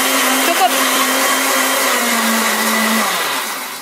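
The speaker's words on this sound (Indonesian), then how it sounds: "Semua bumbunya masukkan ke blender." Electric blender grinding a spice paste for Indonesian opor ayam, a loud steady whir with a sustained motor tone that drops slightly near the end, running alone with no talk.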